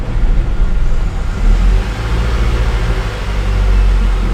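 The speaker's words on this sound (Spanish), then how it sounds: "Ya aceleró el carro, ¿viste?" A car engine revs up and runs loud and close after a sensor is disconnected and the check engine light comes on, giving a steady rumbling roar without any talking.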